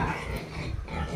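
A dog growls or grunts briefly at close range, a rough, low, noisy sound lasting about a second with no talking over it.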